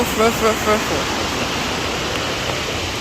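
Steady broadband rush of a rough, dirty river at Yaaman Adventure Park fills the clip, loud and continuous, with a brief voice-like tone near the start.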